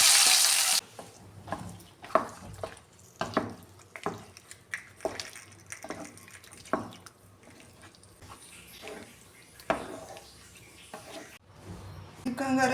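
A hot tempering of mustard seeds, curry leaves, shallots and dried chillies sizzles as it is poured into a coconut-milk chicken curry, with crackling bursts, stirring and spoon clatter, close and uneven, and no talk.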